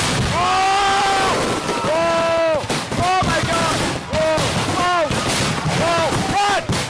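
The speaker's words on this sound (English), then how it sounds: "a malfunction just 2 minutes into the show sent fireworks flying into the crowd" Fireworks at a professional display in Simi Valley, a Los Angeles suburb, go off during a malfunction, with a rapid series of loud bangs and bursts. Whistling, screaming shells rise and fall between the blasts, and voices shout underneath.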